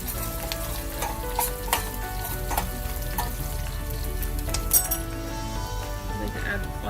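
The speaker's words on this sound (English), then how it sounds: "You want to give it a few seconds for the ginger to fry and partially cook." Ginger fries with dried red chili in hot oil, a steady close sizzle with occasional light clinks of a utensil against the pan, no one speaking.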